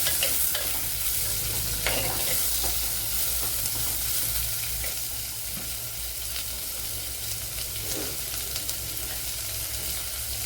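A large sliced onion fries in a pan with a continuous, close crackling sizzle, punctuated by scraping and clicking as a spoon stirs it, with no talking.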